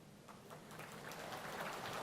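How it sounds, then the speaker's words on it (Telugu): Audience applause at a political meeting, a steady spread of many hands clapping that builds slightly in loudness across the stretch, with no talk over it. "సగమే చప్పట్లు కొట్టారు, ఇంకా సగం కొట్ల."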